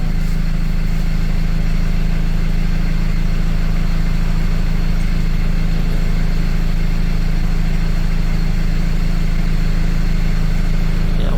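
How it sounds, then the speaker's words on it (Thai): A Ford 2.2 car engine, noted as running loud, idles steadily and loudly up close, a constant low drone with a rough mechanical hum and no voices. "เครื่องมันดังครับผม เสียงเครื่องดัง"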